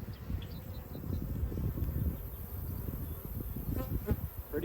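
Honeybees hum steadily from an opened hive that may have already swarmed, a continuous low insect drone with busy buzzing close at hand and no voices.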